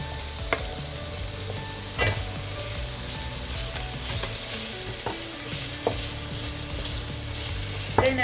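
White onions sizzle and fry in a pan for a bitter gourd dish, a steady crackling hiss broken by several sharp clanks and scrapes of stirring.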